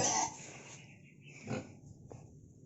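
Pet pigs give a few low grunts and snorts close by, one louder burst at the start and then softer scattered oinks, fairly quiet overall and without talking.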